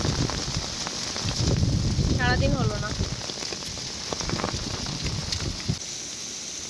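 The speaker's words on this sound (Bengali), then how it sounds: "কিন্তু আপাতত বৃষ্টির জন্য আটকে পড়েছি পথে শিলা বৃষ্টি হচ্ছে" Heavy hail and rain pour down steadily on a roadside in England, a dense close drumming hiss on surfaces, with brief voices speaking over it partway through.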